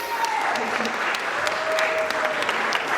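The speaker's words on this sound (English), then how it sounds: "So give yourself a round of applause, ladies." Steady applause from a live studio audience at a masquerade-themed dating show, dense and sustained throughout, with a faint tone and some crowd murmur mixed in.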